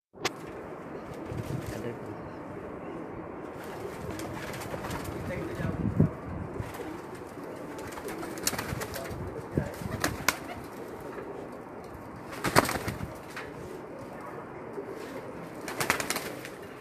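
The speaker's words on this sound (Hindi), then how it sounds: "ये वो कबूतर हैं जो रात को रह के वापस आते थे" Racing pigeons coo softly and flap their wings in a loft, with a steady low murmur of calls, a few sharper flutters, and faint voices in the background.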